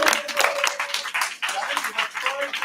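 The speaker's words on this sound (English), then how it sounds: "Big clap. Give him some love." At a startup demo night in Bristol, an audience claps in quick, uneven bursts to welcome a presenter to the stage, with a voice speaking over the clapping.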